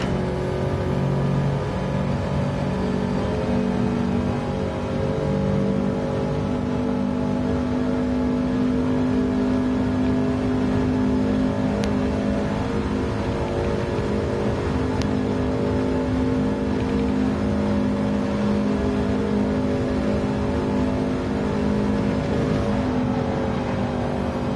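Audi race car engine on the Nürburgring in a racing video game, a steady loud drone held at high revs for a long stretch with small pitch shifts and no voice over it.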